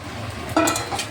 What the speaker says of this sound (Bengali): এখন এই ভাজা ভেন্ডিটা দিয়ে দিচ্ছি